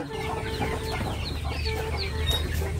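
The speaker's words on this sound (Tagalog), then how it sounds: "Ayun ang mga manok." Chickens cluck and chatter close by, several birds overlapping in short, scratchy calls against a low background hum.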